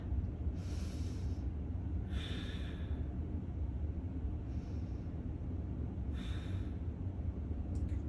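Deep, slow breaths during a beginner yoga exercise, four or five drawn-out airy inhales and exhales spaced a second or two apart, close and soft over a low steady background hum.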